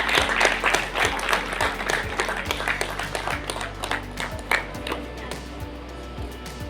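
Hearty audience applause rings out at a 10th and 12th grade student honour ceremony during bouquet welcomes, thick clapping with crisp individual claps and faint speech underneath, thinning slightly toward the end.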